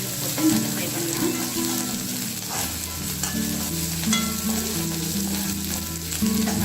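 Ginger and garlic fry in a pan for gobi manchurian, a steady close sizzle with stirring scrapes running throughout.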